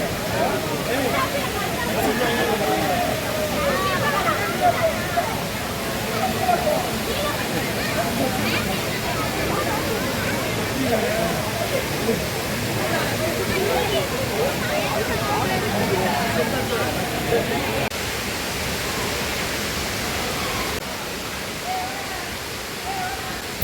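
Palaruvi waterfall in Kerala, dropping about 300 feet, roars as a dense, steady rush of falling water. The sound stays loud and constant throughout, with faint crowd chatter mixed in beneath it.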